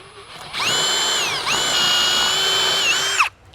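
A power drill bores into a wooden fence post, whining at a high steady pitch for about three seconds with a brief dip midway, loud and close, then stops.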